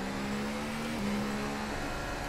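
An F1 car engine in the F1 2018 racing video game holds a steady, droning rev at the race start, with a slight pitch dip midway and continuous whirring noise around it.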